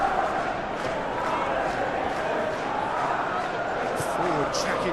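A large football stadium crowd in a Manchester City versus Liverpool Premier League match video game roars in a steady, dense wash of cheering and chanting, with a commentator's voice running over it.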